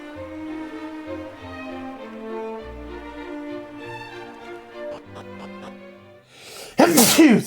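A person sneezes loudly and close up near the end, a short sharp burst that follows a stretch of soft game music from Dragon Quest 2 HD-2D Remake.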